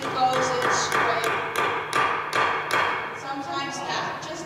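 A hammer strikes a nail in repeated sharp taps about every half second, loud and close, while a person talks over them.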